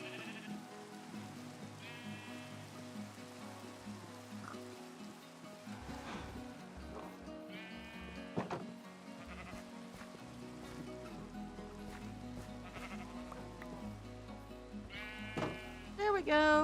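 Blocky sheep in a cozy Minecraft farm bleat several times in short wavering bursts, repeating through the stretch over soft background game ambience and music.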